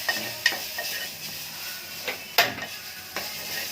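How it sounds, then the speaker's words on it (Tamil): Spices frying in oil in a pan for rasam, a quiet steady sizzle broken by a few sharp spoon or utensil clinks against the pot. "இப்படி எண்ணெயில் வதக்கணும்."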